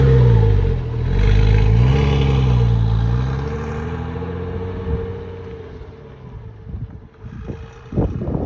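A Porsche Boxster cabriolet engine revs in several strong swells that rise and fall, then settles toward idle, with wind buffeting the microphone and some faint knocks at the end.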